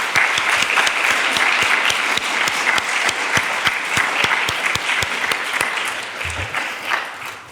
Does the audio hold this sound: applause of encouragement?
yes